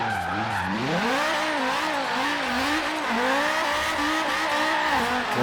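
A 1128 hp 8.5-litre Dodge Viper V10 Rocket Bunny drift build in Forza Horizon 3 screams continuously, its engine pitch swooping up and down as it drifts, with tire squeal underneath and no talking.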